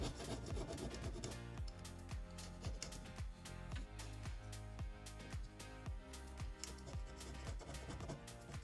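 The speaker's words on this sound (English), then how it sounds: "And then scrape off all the glue." Blade scraping old glue off iPad glass, a close, faint run of rapid rasping strokes and repeated scratchy passes with no talk.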